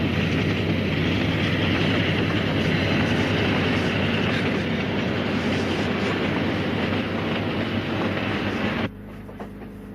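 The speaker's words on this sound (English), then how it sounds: "the easy rhythm of the train does the rest" The Ghan passenger train crossing the Australian outback rumbles steadily on its rails, a loud, continuous low roar with faint rhythmic clatter from the carriages before the noise drops abruptly near the end.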